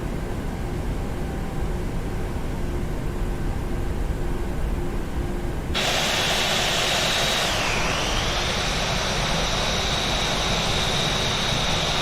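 PMDG 737 jet engines run while taxiing in Microsoft Flight Simulator, a steady loud broadband roar that suddenly gains a brighter whine partway through, with a tone that dips and recovers, and no talking.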